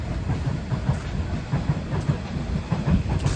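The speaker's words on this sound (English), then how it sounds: "You hear the ambient sound of the train going through" A train passes close by with a steady low rumble and a rhythmic clatter of wheels, with no voices over it.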